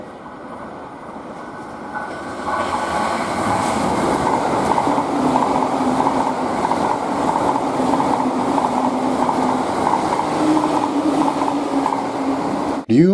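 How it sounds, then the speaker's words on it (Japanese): A freight train rumbles steadily at Ryuo station on the Chuo Main Line in Japan, growing louder after a quiet start and holding a continuous low roar with faint clatter, with no voices. "石油貨物列車とコンテナ貨物列車の発着があります"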